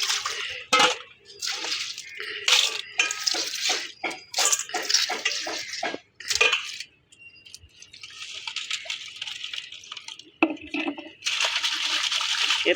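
Snails being washed by hand in water, with bursts of splashing, sloshing and swirling broken by short pauses, close and fairly loud, no talking.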